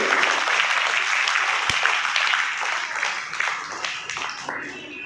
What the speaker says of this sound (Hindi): तालियां बजती रहनी चाहिए, तालियों में कोई कंजूसी है।